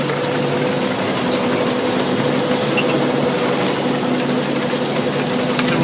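A tractor-drawn potato harvester lifts the whole bed and sieves the soil over a web, with rollers sifting out bigger lumps. Its loud, steady rattling and clanking machinery noise runs continuously and close, with no voices.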